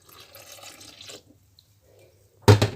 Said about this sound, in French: on ajoute le lait